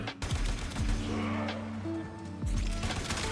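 Oraxia's ability explosion in a game, with loud blasts and sharp impacts amid dense battle noise, including a big burst at the start and another strong hit near the end.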